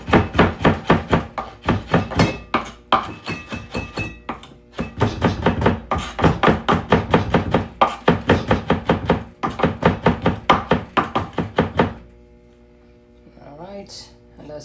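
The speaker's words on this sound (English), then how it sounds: "I'm gonna dice up some onion. I'm gonna take it, cut it up all here." A very sharp knife dices onion on a cutting board in rapid, steady chops, loud and close, with brief pauses between bursts before the chopping stops near the end.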